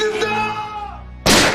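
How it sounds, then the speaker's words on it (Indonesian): A single loud, sharp gunshot as a man is shot in the head in a film scene, bursting abruptly after a voice. "lalu menembak kepala John"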